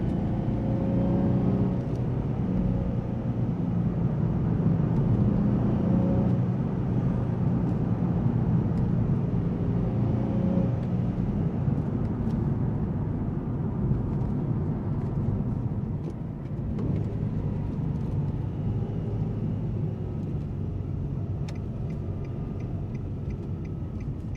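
A 2003 Nissan 350Z Track Edition with a manual clutch drones steadily from inside the cabin while driving, a constant low engine and road hum that eases slightly partway through.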